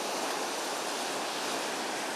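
Ocean waves wash ashore at a shell-strewn beach in Georgia, making a constant broad rush of surf that is steady and fairly loud, with no talking.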